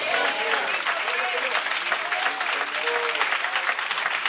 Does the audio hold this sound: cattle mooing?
no